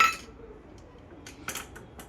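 Pasta is stirred with pasta water in a pan, a utensil giving scattered metallic clinks and scrapes, a louder cluster near the end, with no talking.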